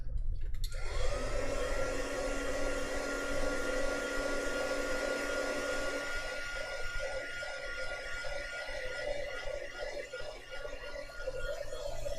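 A hair dryer starts up and runs with a steady, loud whooshing hum while drying a gongbi painting in progress, close to the mic and continuous to the end.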